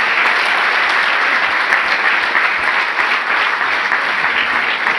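A church congregation at an Easter service breaks into loud, dense applause, a continuous wash of clapping with no pauses from start to finish.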